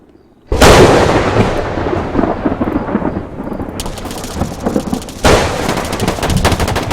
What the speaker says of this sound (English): Chuck down some lightning for these guys.